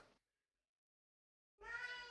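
A house cat lets out one loud, nearby meow after a short sound at the start and a pause of near silence.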